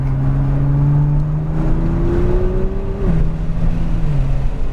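A Nissan GT-R supercar drives a lap on a race track, a loud, close engine drone that climbs steadily in pitch, then drops abruptly at a gear change before rising again.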